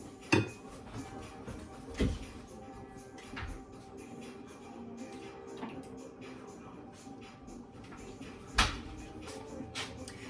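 A deep cooking pot and metal strainer are handled in a home kitchen while roast beef and mashed potatoes are prepared, giving a few sharp metallic clanks over a steady low background hum.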